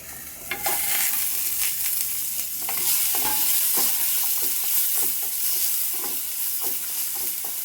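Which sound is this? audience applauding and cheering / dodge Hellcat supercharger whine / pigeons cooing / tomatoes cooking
tomatoes cooking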